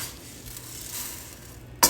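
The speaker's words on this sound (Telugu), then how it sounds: "సగం మీద నేనైతే ఫ్రై చేసుకుంటున్నాను" Pearl millet grains dry-roasting in a pan make a quiet, continuous sizzling hiss with faint stirring, ending in a short sharp clink of metal.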